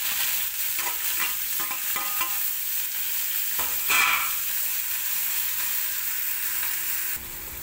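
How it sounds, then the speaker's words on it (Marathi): Sliced onion hits hot oil with cumin seeds for a dry chicken dish, giving a steady close sizzle with scraping stir strokes and clinks, a brief louder hiss near the middle, then settling into quieter frying. "तर उभा कांदा आता चिरलेला टाकून घेते"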